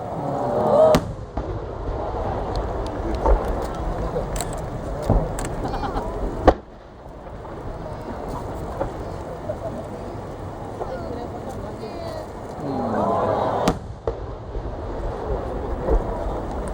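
Aerial fireworks from a professional Japanese fireworks company's Halloween-themed display burst repeatedly, with sharp loud cracks scattered over a continuous crackling rumble, while crowd voices murmur throughout.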